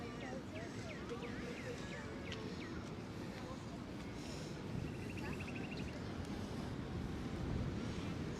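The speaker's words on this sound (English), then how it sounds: "you guys can probably hear the wind. It is windy here." Wind gusting outdoors in a botanical garden in Brooklyn, a steady broadband rush and buffeting across the whole stretch that swells a little near the end, with faint birdsong above it.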